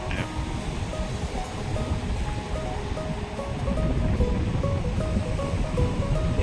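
Sea waves wash onto the wide sandy shore of Cha-am beach in Phetchaburi, Thailand, a steady broadband surf roar that swells slightly louder toward the end, with faint tonal sounds in the background.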